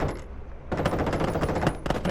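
Rapid bursts of tank gunfire from a video game, a brief shot followed by a sustained loud rattling volley and another burst at the end, with no talking.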